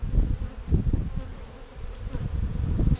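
Honeybee colony in an open hive, a dense low buzzing hum close up, steady with slight swells, alone without speech.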